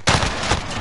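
Gunfire in a Modern Warfare video game, a single sharp shot followed by a dense rattling tail of continued fire, loud and close.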